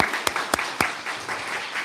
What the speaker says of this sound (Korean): 박수 한번 더 쳐줍시다